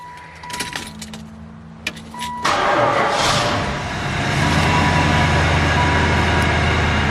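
A Chevrolet Impala with an LQ9 6.0 LS engine: keys rattle and jingle, a brief crank, then the engine catches and settles into a loud, steady idle nearby.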